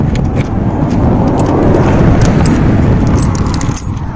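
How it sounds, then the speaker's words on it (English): A car passes on a road in strong wind, broadband wind roar and rumble filling the whole stretch while the vehicle's engine noise swells and fades underneath, loud and close throughout. "Another car."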